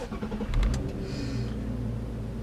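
A 2009 Infiniti FX35 luxury crossover starts with a short crank and catches, then settles into a quiet, steady idle hum nearby.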